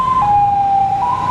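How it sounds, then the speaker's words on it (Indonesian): A private ambulance siren sounds in Jakarta traffic, a steady loud wailing tone that dips and rises slightly, heard alone for a brief moment. "Dan ini suara ambulannya tidak seberisik di Amerika"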